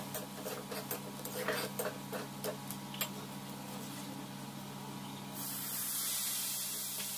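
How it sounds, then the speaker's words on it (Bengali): Coriander, cumin, turmeric and chili powders fry in a pan with a little water, giving a steady hiss and faint crackle that swells louder near the end. "হালকা জল দিয়ে মশলাটাকে আমি ভালোভাবে ভেজে নেব।"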